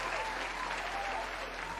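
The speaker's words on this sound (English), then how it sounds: "The crowd is still clapping, man." A crowd at an awards show keeps up a continuous, even wash of clapping, with the many hands blending into a steady roar that never breaks.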